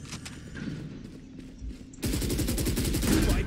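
Gunfire in the shooter game Valorant rattles out as a fast, loud automatic burst in the second half, following quieter scattered game sounds.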